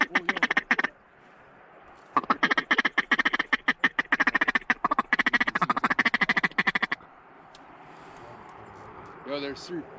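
Ducks quack during a waterfowl hunt, two rapid, loud bursts of repeated quacking in quick succession, with quiet outdoor ambience between and a brief voice near the end.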